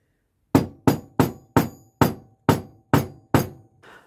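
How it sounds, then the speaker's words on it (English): A hammer taps a stamp pressed onto mesh over a die, eight sharp evenly spaced metallic knocks, close and clear, followed by a softer final tap. "give it a little tap just to sharpen up the profile"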